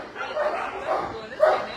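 Dogs at an animal shelter give short yips and barks in a few bursts, the loudest near the end, mixed with people talking nearby.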